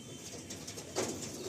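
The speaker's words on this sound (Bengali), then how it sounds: "Full active Payra." A Madrasi pigeon, one of an active breeding pair shown for sale, gives faint, soft low coos against steady background noise, with a brief fluttery burst of wings or movement near the end.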